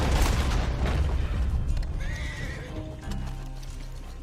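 A Gorilla Dun Mustang horse in Red Dead Online whinnies close and loud over clip-clopping hooves, with a low boom underneath, fading slightly toward the end.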